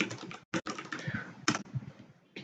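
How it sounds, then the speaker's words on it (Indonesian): Rapid typing of a password on a computer keyboard, a close, busy run of key clacks with two brief pauses and a few sharper presses standing out. "Kita ketik ulang lagi password yang tadi kita masukkan."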